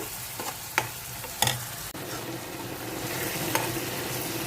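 Potato gravy with curd, chili powder and turmeric frying in oil, a steady close sizzle with several sharp spoon taps and scrapes against the pan as it is stirred.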